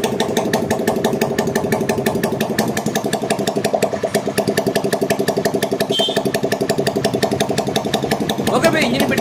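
An Indian Post Office vehicle's engine runs after engine work, chugging in a fast, even rhythmic beat close by, with a voice briefly heard near the end.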